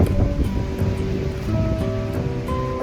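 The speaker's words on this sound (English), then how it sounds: "It's very, very windy" Strong wind buffets the microphone at Lake Okareka, a steady roaring rush with lapping water underneath and no voices.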